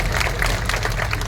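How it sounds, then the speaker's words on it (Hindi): Audience clapping at a BJP election office opening, a steady wash of applause from a crowd filling the whole moment at close range. "इस बात को ताली बनती है"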